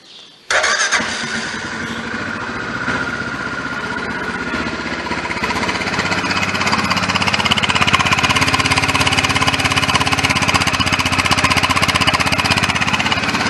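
A single-cylinder Hytrack 510S ATV engine starts abruptly and keeps running with a loud, rough, rapid thumping idle that grows slightly stronger.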